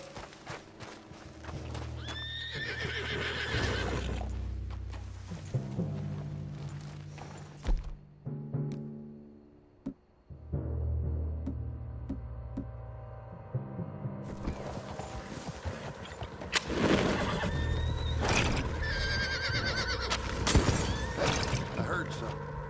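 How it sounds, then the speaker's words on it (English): A spooked horse in Red Dead Redemption 2 whinnies loudly over clip-clopping hooves and creaking tack, with someone talking nearby and a low hum between the calls. "What's got this horse spook, huh?"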